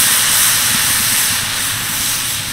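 A spoonful of batter hits a hot tawa griddle and sizzles with a loud, steady, bright hiss that fills the whole stretch without any talking.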